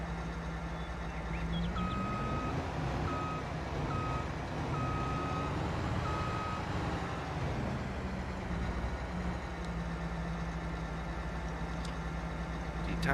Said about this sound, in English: So we do have a reverse beep sound